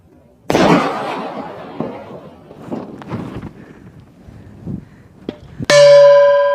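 A firecracker goes off under an upturned mortar pan with one sharp, loud bang close by, then scattered pops and clatters, and finally a sustained ringing metallic tone like a struck bell.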